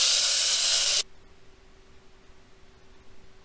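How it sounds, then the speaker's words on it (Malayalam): Mustard seeds and dried red chillies sizzle in hot coconut oil for a Kerala vellarikka pachadi tempering, a loud, dense frying hiss that cuts off abruptly after about a second, leaving a quiet room with a faint steady hum. "വെളിച്ചെണ്ണയിൽ കടുക്, വറ്റൽമുളക്, ഇത് നമുക്ക് താളിച്ച് ചേർക്കാനുള്ളതാണ്."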